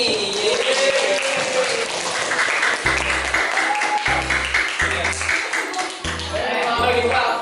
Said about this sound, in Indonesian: Beri tepuk tangan buat kelompok Denny.